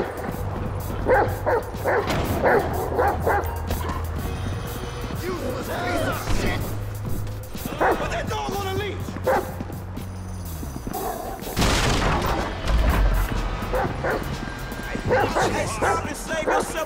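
Dog barking and yipping in the GTA V mission Chop, repeated barks and whimpers over game music and effects, with someone talking throughout.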